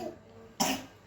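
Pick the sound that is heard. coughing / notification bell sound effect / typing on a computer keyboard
coughing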